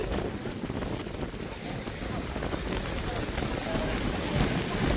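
Strong wind roars across the Guru Shikhar mountain top in a storm with rain. It makes a steady, rumbling buffet against the microphone for the whole stretch, fairly quiet overall and with no clear talk.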